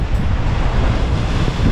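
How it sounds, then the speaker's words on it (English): Atlantic waves break steadily on the beach at Half Moon Bay, Antigua, a dense, continuous wash of surf with strong wind rumble across the microphone and no pauses. "Waves coming in straight from the Atlantic."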